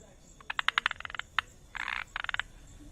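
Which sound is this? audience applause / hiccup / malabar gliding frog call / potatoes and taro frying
malabar gliding frog call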